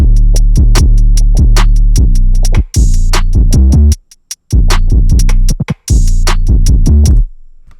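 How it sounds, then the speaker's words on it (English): A loud, steady trap drum beat made in FL Studio with punchy kicks and crisp hits, interrupted by a brief break before the pattern resumes. "and then we have the drums, and the drums sound like this"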